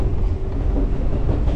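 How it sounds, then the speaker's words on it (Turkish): Inside a moving train in Japan heading toward Mount Fuji, a steady, loud, low rumble and rolling hum fills the carriage without a break, with no voices. "Şimdi böyle çok tatlı bir trende başka bir yere doğru gidiyoruz."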